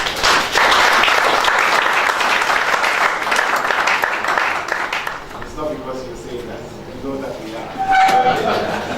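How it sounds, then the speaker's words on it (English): Round of applause from an audience at a chamber of commerce business visit to a Unilever site, loud and sustained clapping that fades into murmuring voices and faint tonal sounds near the end. "I think you deserve another round of applause."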